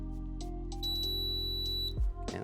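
Steady electronic beeping tones from a detector, a continuous pitched drone with high overtones, ending in a brief bump and clatter.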